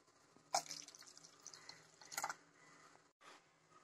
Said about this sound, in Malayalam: നമുക്ക് കുറച്ച് വെള്ളം കൂടി ഇത് ഒഴിക്കാം.